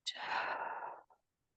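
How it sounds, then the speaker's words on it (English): A single deep breath in a calm healing ceremony, a long breathy exhale that swells then fades, close and alone, with a short soft breath at the end. "We're going to take a couple of deep breaths in and out."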